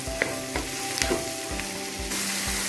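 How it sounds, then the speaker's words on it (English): Mushrooms stir-fry in a pan for vegetable noodles, a continuous close sizzle with regular spatula scrapes and taps about every half second, alongside a faint steady hum, no voices. "Now again stir fry this"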